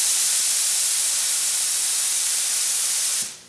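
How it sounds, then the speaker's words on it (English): Paint spray gun with its trigger held and fluid control shut off, blowing air at 20 to 25 psi: a loud, steady, close broadband hiss that runs unbroken for about three seconds, then cuts off sharply as the trigger is released. "We're going to pull the trigger and set our airflow at 20 to 25 pounds."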